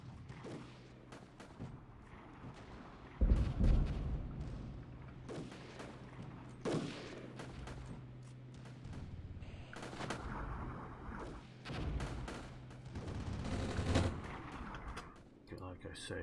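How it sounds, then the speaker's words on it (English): BM-21 122 mm rocket fire in the Armored Brigade war game, a series of distant booms and thuds spread across the clip with one louder blast near the start, under a steady rumble and talk. "Those look like they are BM-21 122 millimeter rockets"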